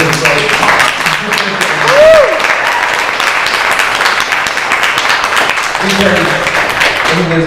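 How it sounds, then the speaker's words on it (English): Applause from a room full of people at a progress party honouring Heather, loud, dense clapping throughout, with voices and cheers mixed in near the start and end. "we really kind of owe Heather a big round of applause and congratulations"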